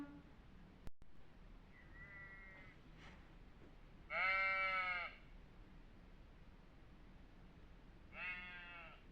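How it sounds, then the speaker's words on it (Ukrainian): A sheep bleats twice, a loud wavering call and a later softer one, after a faint shorter bleat, over a quiet outdoor background. "вівця."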